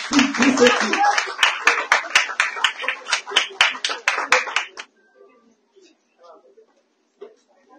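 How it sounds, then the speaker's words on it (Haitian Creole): Applause at a public service day ceremony held by a tourism ministry: a small crowd claps rapidly and fairly loudly for about five seconds, then stops, leaving near silence with faint scattered noises. "Des applaudissements pour Madame."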